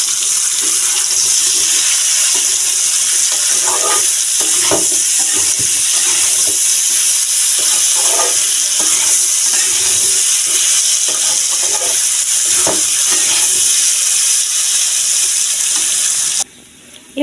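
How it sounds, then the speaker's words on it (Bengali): Vegetables fry and sauté in a pan with rock salt for a Bengali sago khichuri, a steady close hiss and sizzle running unbroken with faint clinks and stirring scrapes, no talk. "আর আমার সবজিগুলো বেশ ভাজা ভাজা হয়ে গিয়েছে"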